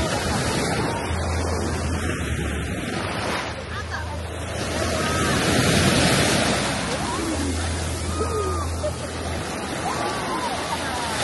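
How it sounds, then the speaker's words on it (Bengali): Large ocean waves roll in at Haeundae beach in South Korea, a continuous broad wash of surf with wind buffeting the microphone, swelling louder in the middle. "বড় বড় ঢেউ মারা শুরু হয়েছে"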